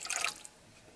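Warm tap water mixed with 70% rubbing alcohol trickles and drips in a brief, fairly quiet splash, followed by near silence.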